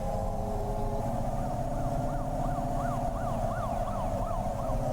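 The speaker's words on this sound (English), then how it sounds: "there was a police car" In the video game Cloudpunk, a police car siren wails in a rising and falling pattern over a low, steady hum of engines and city ambience, moderately distant and continuous.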